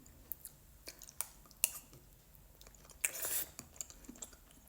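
Close, quiet chewing of saba banana in condensed milk with sticky rice, soft wet squishes and occasional crunchy bites scattered irregularly, with a longer burst of chewing midway.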